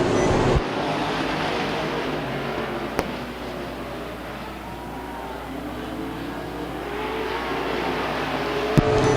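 Modified race cars lap Stockton 99 Speedway, a continuous roar of engines that swells and fades as cars pass, moderately distant, with a couple of sharp clicks.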